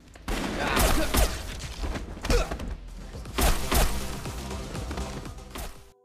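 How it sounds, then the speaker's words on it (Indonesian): Gunfire in a film shootout scene at a villa, with guards firing in bursts: dense, loud volleys of shots and impacts with thuds and mechanical clatter layered under a score, sustained across the whole stretch. "Namun di tengah baku tembak sengit ini"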